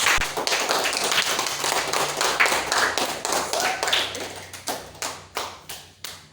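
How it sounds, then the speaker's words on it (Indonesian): Classroom applause for a student group: a burst of many hands clapping close and loud, then thinning out into a few slower, decaying claps before stopping. "Tepuk tangan untuk kelompok 3."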